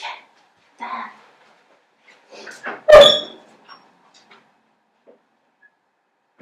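A dog in the room makes a brief yelp or bark-like noise, loud and close, between scattered bits of nearby talk and clatter.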